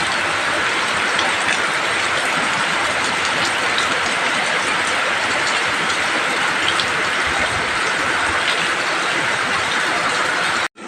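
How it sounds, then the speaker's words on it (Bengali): Heavy rain pours down in a loud, dense, unbroken roar that stays even for about ten seconds before cutting off abruptly. "এখন জোর বৃষ্টি নেমেছে"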